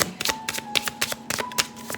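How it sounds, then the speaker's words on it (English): Tarot cards being shuffled by hand: a quick run of crisp riffles and taps, close and clear, in an irregular rhythm over two seconds. "I love the way these cards shuffle."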